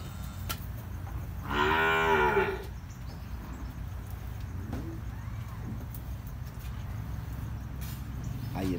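A large F1 dairy cow lets out one loud moo of about a second on a farm, with a low steady background hum before and after.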